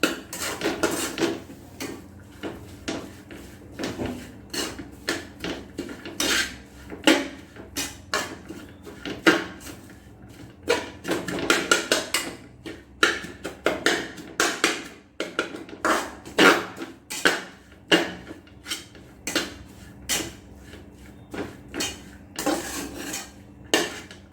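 A metal utensil scrapes and clanks repeatedly against a pan while egg kothu chapathi masala mix is stirred, an uneven rhythm of close, bright clatters.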